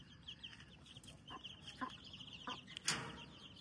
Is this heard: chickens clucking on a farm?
yes